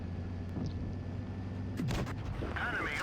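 A single tank cannon shot fired on the move from a P.43 06Anniv. tank in World of Tanks Blitz, a sharp, booming report over steady engine rumble, trailed by brief higher game effects.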